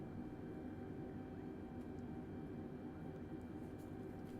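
Airbus airliner in Microsoft Flight Simulator, cleared for takeoff on runway 27, with a steady droning engine roar under a faint tonal hum, constant and unbroken, heard alone.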